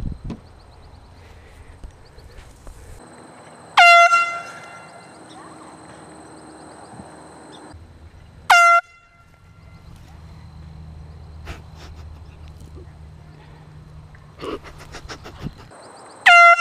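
An air horn is blasted at golfers on a golf course in loud, sharp bursts, four in all, spread across the clip. Quiet outdoor background and faint voices fill the gaps between the blasts.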